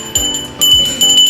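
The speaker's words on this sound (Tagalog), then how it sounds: "Ito yung bell natin yan." Short electronic notification bell chime, two bright ringing tones in quick succession, loud and alone with no talk.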